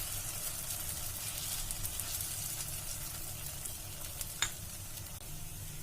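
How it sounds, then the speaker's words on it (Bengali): Thick batter frying in an oiled frying pan, a soft steady sizzle with faint crackle and one brief sharp scrape of a spoon near the end, quiet and without voices. "তো আমি এবার ব্যাটারটা দিয়ে দিব"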